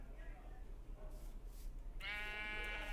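A harmonic sheep bleat from a video game rises near the end, following quieter game ambience and soft background sounds. A voice is faintly present beneath.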